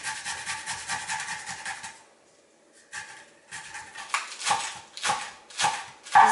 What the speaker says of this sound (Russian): Зубчика чеснока натираю на мелкой терке.